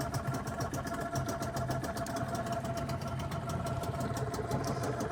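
The outboard motor on the tender dinghy of a Hélia 44 catamaran runs steadily after starting. It makes a close, even, mid-pitched idle with a fast ticking pulse, and no one talks over it.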